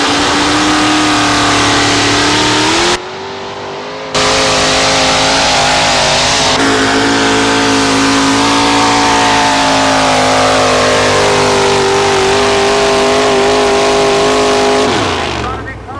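Trucks roar through a truck pull competition, with heavy engines holding a loud, sustained, strained drone that cuts out briefly and then builds again. An announcer talks over the engine noise.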